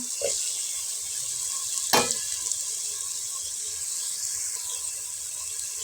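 Prawns hit hot soybean oil with green chilies and onion, ginger and garlic paste, giving a steady bright sizzle with a sharp crackle and a brief clatter partway through.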